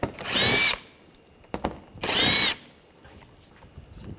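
A power tool with an 8mm socket removing screws on a BMW 328i xDrive 3.0L, with two short loud whirring bursts separated by a pause and a few small clicks.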